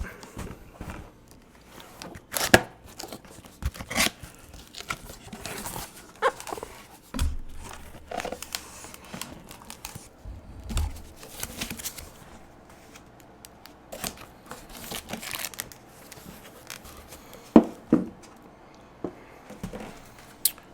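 Intermittent crinkling and rustling of glass food storage container packaging being unwrapped up close, with scattered soft clicks and taps and quiet pauses between.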